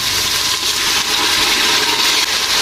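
Water poured into a hot pan of cooking chana for Lahori cholay gives a loud, close rushing hiss and sizzle that lasts the whole short moment without pause.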